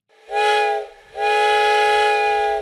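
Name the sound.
train whistle sound effect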